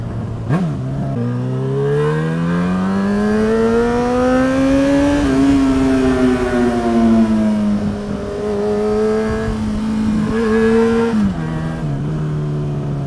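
A car engine revs hard and long, pitch climbing and dipping as it's held at high revs, loud and close throughout.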